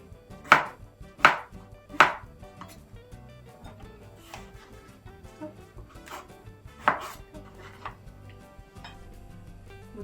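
Knife chopping mushrooms into small triangles on a board: a few sharp, distinct thuds spaced unevenly, quiet and close, with softer taps between them and no talk.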